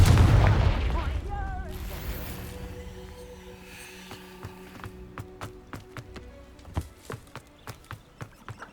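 A Confringo blasting spell in Hogwarts Legacy lands as a loud booming burst that rolls off into a long fading rumble, then a string of sharp sporadic cracks and pops follows in the quieter tail.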